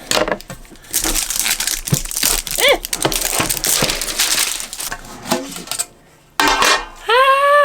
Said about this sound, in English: I'm just gonna have to use scissors.